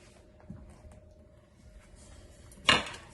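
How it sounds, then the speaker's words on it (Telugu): A lid is set down on a pan of stuffed brinjals frying in coconut chilli masala, giving one sharp close metallic clink near the end over a quiet kitchen background. "ఇప్పుడు మూత పెట్టుకోవాలండి ఇలాగా"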